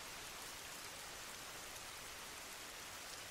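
Steady rainfall hisses continuously as a soft, even wash of drops on surfaces, fairly faint and unchanging throughout with no voices.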